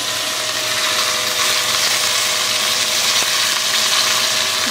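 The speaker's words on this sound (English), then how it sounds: "I'm going to throw the butter in here." Butter dropped into a hot pan for a New York strip steak dinner, a loud steady hiss of sizzling fat that holds evenly throughout with no one speaking.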